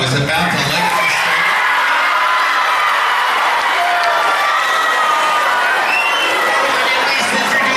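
A school talent show audience cheers loudly, a dense continuous roar of voices, whoops and clapping from a large crowd of children, sustained throughout.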